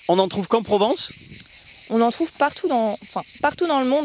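Cicada cymbalisation in a warm Provence setting, a steady buzzing drone running throughout beneath a woman's speech, which is heard under and around it for most of the clip.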